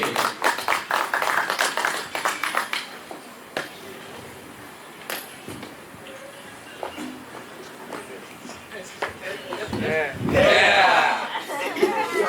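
Stand-up comedy show audience in Cirebon breaking into applause and cheering as a comedian takes the stage, a dense burst of clapping over crowd noise that swells loudly near the end.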